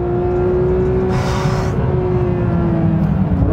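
A Porsche 911 GT3 race-bred road car with traction control off tears through a track chicane at about 150 km/h, its engine holding a steady loud drone with a brief rising surge and tire noise.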